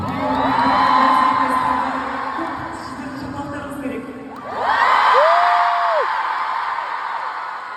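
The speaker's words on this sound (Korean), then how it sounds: "재즈 오케스트라 분들에게 박수 한번 부탁드립니다." A concert crowd at a K-pop orchestral show in Kazakhstan cheers for a jazz orchestra, with loud sustained crowd noise and rising whoops and whistles that swell, dip briefly and then surge again.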